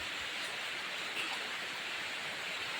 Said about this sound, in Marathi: पावसाचा आवाज पावसाचा आवाज